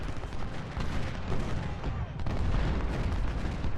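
Massed Civil War cannons firing canister shot in Ultimate General: Civil War, a dense continuous roll of booming artillery with heavier rumbling toward the end, no voices audible.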